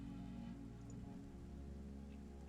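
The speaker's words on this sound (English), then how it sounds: "watches the rain come down" Steady rain pours down in the video game I Was a Teenage Exocolonist, an even, continuous hiss with a low tonal hum beneath it and no one speaking.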